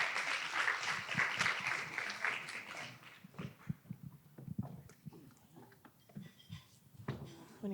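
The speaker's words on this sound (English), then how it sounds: "let's give a round of applause to Carrie, our president and CMO of AutoFi." Audience applause at a women-in-automotive breakfast meetup, dense clapping for the first three seconds that thins into scattered claps while people talk.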